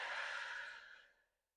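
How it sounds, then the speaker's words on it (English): One long, airy clearing exhale during a gentle restorative yoga session, loud and close at first, then tapering smoothly into silence over about a second and a half. "Take the clearing breath."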